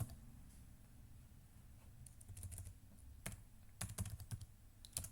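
Quiet, close clatter of fingers typing on a computer keyboard, irregular bursts of keystrokes with short pauses, a few sharper taps near the end, no one talking.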